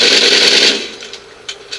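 A Maverick air rifle is fired at a wall at close range: a sharp, loud crack with a brief hiss that fades within a second, then two faint light ticks, with no talking.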